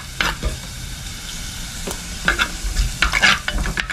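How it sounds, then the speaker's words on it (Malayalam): Ginger and garlic sauté in a hot pan, sizzling loudly up close while a utensil stirs and scrapes in short bursts, growing busier toward the end; no talking. "പച്ചപ്പ് ഒന്ന് മാറുന്ന വരെ നമുക്കൊന്ന് വഴറ്റിയെടുക്കാം"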